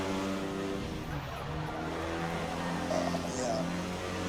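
Clio Cup race car in Assetto Corsa drifting through a corner at Long Beach, engine droning steadily with a brief tire squeal, continuous and fairly loud throughout.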